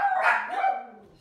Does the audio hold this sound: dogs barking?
yes